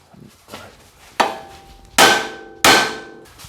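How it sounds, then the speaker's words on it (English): Sharp metallic hammer blows on a Honda CR-V's steel lower control arm to pop out a ball joint, a few light taps followed by three loud ringing strikes spaced under a second apart, close by. "I'll take my hammer and hit right here on the lower control arm"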